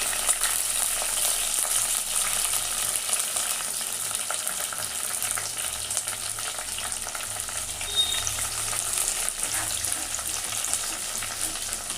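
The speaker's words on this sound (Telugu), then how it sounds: "పప్పు కొంచెం వేయించుకోవాలి. కొంచెం వేయించుకుంటే టేస్ట్ ఎక్కువ వస్తుంది." Dal fries in a pan with curry leaves and green chillies, giving a continuous bright sizzle and crackle. It holds at an even, close level, with occasional stirring and no talk.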